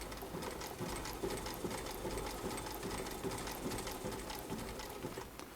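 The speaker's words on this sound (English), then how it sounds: "you should be able to keep sewing right past that seam" A sewing machine fitted with a walking foot stitches a leather cushion, giving a steady, fast mechanical whirr with rapid needle ticks that runs unbroken from start to finish and has no talk over it.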